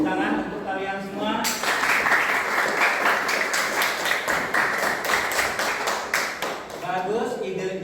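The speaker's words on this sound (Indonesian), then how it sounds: "Tepuk tangan untuk kalian semua." A classroom audience applauds a student group, with dense, loud clapping lasting several seconds between spoken words at the start and end.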